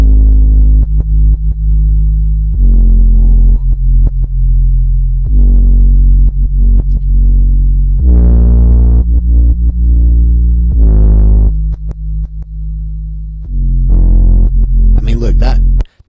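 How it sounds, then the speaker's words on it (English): A heavy, distorted 808 sub bass plays long sustained notes with a gritty, rumbling edge, shifting pitch every couple of seconds in a steady pattern. "We've added a ton of distortion to it, and listen to what that distortion does, the rumble it gives."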